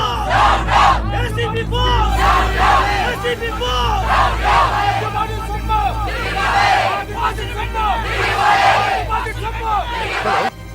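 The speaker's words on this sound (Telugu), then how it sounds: "వెనకాల జనం బోస్ డౌన్ డౌన్ అని అరుస్తూ ఇటే వస్తారనా?" An angry crowd shouts protest slogans in a tense film street scene, a loud, surging mass of overlapping yells and chants that rises and falls across the clip.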